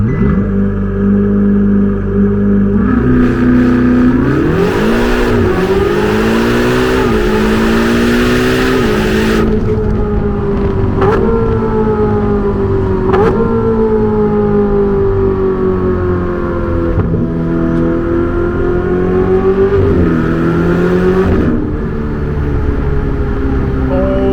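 A Ferrari 488 GTB engine revs and accelerates hard, pitch climbing through several gear changes, loud and close throughout.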